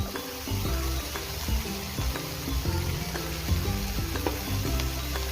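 Ivy gourd fry with dry coconut, roasted gram and garlic powder sizzles in a pan while being stirred, steady frying hiss broken by repeated scraping strokes of the spoon, close up and with no talk.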